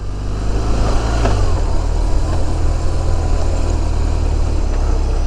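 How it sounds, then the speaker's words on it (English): Car engine running as the driver clunks back into first gear and slips the clutch, a loud steady low rumble with a brief shift in engine tone near the start, then an even drone. "Let's clunk it back into first and slip the clutch."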